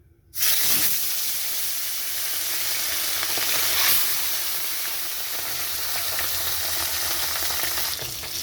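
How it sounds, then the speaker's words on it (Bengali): Fish hits hot mustard oil in a wok and sets off a loud sizzle that starts suddenly and keeps up a dense, even crackle throughout, with no voices. "কড়াইতে সর্ষের তেলটা গরম হয়ে গেছে, তো প্রথমে আমি মাছটা ভেজে নিচ্ছি।"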